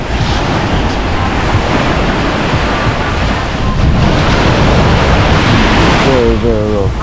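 Rough sea waves roll and crash steadily onto a Jamaican beach, a loud, continuous surf roar with wind buffeting the microphone, and a voice comes in briefly near the end.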